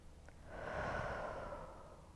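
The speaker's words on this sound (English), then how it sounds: "Taking nice deep full inhales and letting that all out with an exhale" A single slow, deep exhale during a yoga session, a soft airy breath that swells and fades over about two seconds, close and quiet with no talking.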